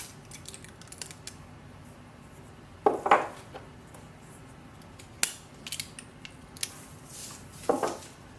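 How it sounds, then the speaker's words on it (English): An orange seal is peeled off the bottom of an HP 67 ink cartridge: quiet, sparse clicks and a few short sharp peeling rips against a near-silent room. "Remove the orange seal which is at the bottom of the ink cartridge."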